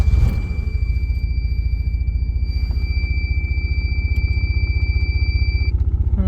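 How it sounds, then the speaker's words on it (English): Small Geo Metro car engine idling after a start, a steady low throbbing rumble close by with an even pulse and a faint high whine running through it, no talking. "You always start the car, let the oil run through the system"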